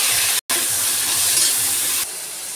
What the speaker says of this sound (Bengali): এবার ওই তেলেই ফুলকপিগুলো ভেজে নেব।